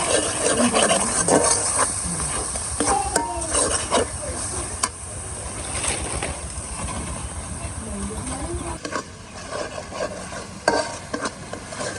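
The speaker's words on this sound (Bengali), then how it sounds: "সব কিছু একসঙ্গে ভালো করে মিশাবো।" Spices such as turmeric and cumin being stirred and mixed together in a pan while preparing ilish fish head with taro leaves, a steady scraping stir over a soft sizzle, close and continuous with brief clanks.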